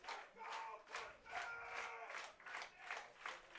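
Crowd at a summer-league baseball game between the Hays Larks and North Platte Plainsmen, clapping in a steady rhythmic pattern that rises and falls for several seconds, moderately loud and fairly close.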